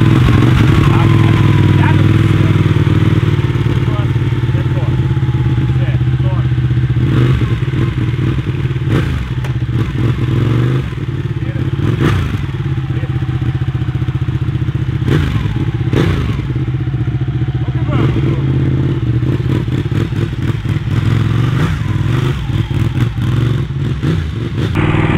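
Ducati Panigale 1199 sport motorcycle engine running steadily and loudly up close as the bike heads out onto the street, with a constant low drone, occasional revs and clattering knocks throughout.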